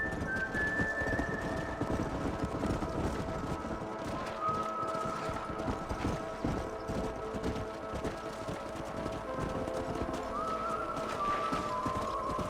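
A horse gallops in the Red Dead Redemption video game, its hooves pounding in a fast, continuous rhythm under rushing game ambience, with occasional faint whistling tones.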